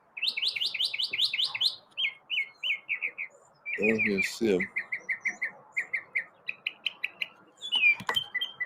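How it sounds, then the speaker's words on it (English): Cedar waxwings chirp in rapid series of thin, high trills near a window, with bursts of calls spaced across the stretch, and someone briefly speaks partway through. "Oh, they're cedar waxwings."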